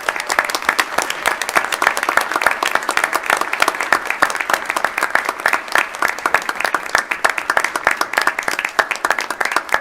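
Sustained applause from a school board meeting audience for students, many hands clapping in a dense, even patter that stays loud and steady for about ten seconds.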